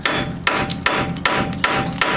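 Steady, loud hammer strikes drive a socket onto a seized, rusted-out nut on a Jeep XJ suspension knuckle, about six evenly spaced metallic blows close up, with no talking.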